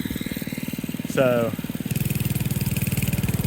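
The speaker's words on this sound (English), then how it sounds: "This is a walk behind bush hog, if you will." A Billy Goat walk-behind bush hog's engine runs steadily in a rapid, even putter throughout, close and loud, with a brief voice speaking over it partway through.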